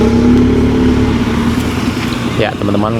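Trucks moving through a highway toll-road construction site beside heavy equipment, carrying stone; a loud, steady low engine drone with a rising rev near the end, while a voice speaks over it.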